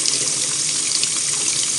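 Hot water running from a tap, a steady hissing gush at constant loudness, close and continuous, with no talk over it.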